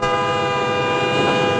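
Godavari Express train at a station platform, a loud sustained horn tone held steady for the whole short moment over a low rumble.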